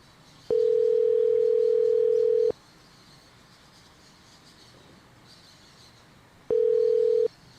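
Outgoing phone call ringback tone, two steady rings separated by a long quiet gap, clear and even over faint background hiss, with no one answering.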